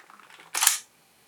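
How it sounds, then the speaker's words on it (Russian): A single sharp mechanical click as the claw engages in a Soviet KS-50B military film camera, brief and close, following a faint quiet rustle. "Вот этот щелчок обозначает зацеп."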